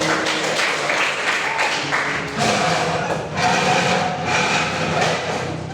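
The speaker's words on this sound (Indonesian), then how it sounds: "Tepuk tangan lagi." Schoolchildren in a classroom clap their hands together in bursts of fairly loud, nearby clapping, with the rhythm rising and falling across several seconds.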